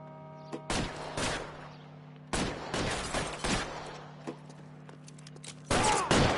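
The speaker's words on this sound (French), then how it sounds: "Qui nous tire dessus là?" Gunshots in the L.A. Noire video game crack out in sharp, loud bursts, some single and some in quick pairs, separated by short pauses over a steady low game hum.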